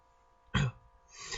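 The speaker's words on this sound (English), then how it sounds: "She coughed." A single short cough bursts out from a woman, close and fairly loud, followed by quiet breathy rustle.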